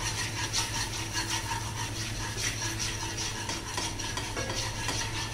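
Red chili powder stirred into butter chicken masala in a pan over low flame, a soft steady scraping and stirring over faint sizzle, with no talk.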